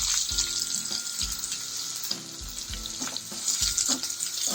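Sliced shallots frying in oil with spluttering mustard seeds and curry leaves for a Kerala chicken stew, a close, bubbling sizzle with rhythmic stirring scrapes throughout.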